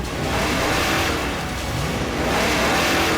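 A car engine revs hard and roars steadily as the vehicle pulls away in a hurried getaway, loud and close throughout with a slight dip in the middle before surging again.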